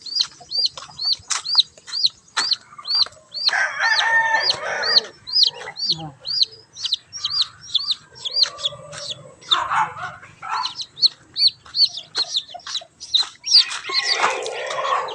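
Chickens and grown chicks clucking in a coop, with rapid repeated cheeping calls running throughout, close and busy, and a dog's barks mixed in among them.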